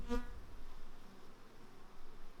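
Honeybees buzz in the morning sun over a flowering meadow near an apiary beneath Babia Góra, a steady faint insect hum with a brief louder pass at the start.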